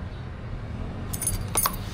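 Unbranded door lock keys jangle and clink together, close and clear, with a few bright metallic taps near the end and no talk.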